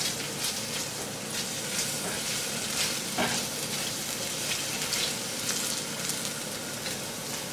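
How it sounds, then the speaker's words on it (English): Garlic and ginger frying in a pan, a dense, continuous crackling sizzle that stays close and even throughout, with a brief clink partway through. "once you see the garlic start browning up, I'm gonna add some of this. This is ginger"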